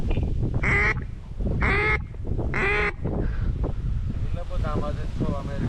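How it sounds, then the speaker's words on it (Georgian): Ducks on a snowy, windy winter hunt quack in three loud, evenly spaced bursts, followed by softer, fainter calls, over steady wind noise and low background talk. "ბიჭო ეს რანაირი იხვია ბიჭო რა არის?"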